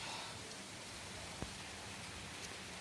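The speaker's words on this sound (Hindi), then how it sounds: "बारिश ने तो आफत मचा दिया है।" Rain pours steadily in a monsoon downpour, a faint, even hiss of drops on surfaces with no talk, one soft tap standing out briefly.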